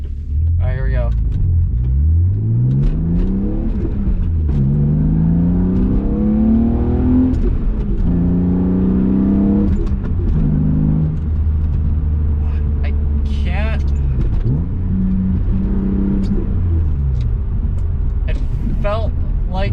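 A car pulls hard on a test drive, its engine note climbing through repeated rising sweeps near and loud, with brief gaps that sound like gear changes.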